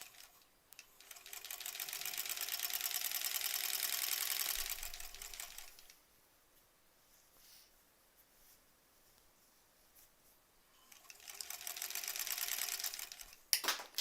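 A sewing machine stitching quilt seams runs in two fast, steady whirring bursts separated by a quiet pause, close and fairly soft.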